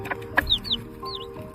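Quick clucks and chirps from chickens mingle with rhythmic tapping that mimics a mother hen tidbitting for shipped chicks, a short close burst of a few soft calls.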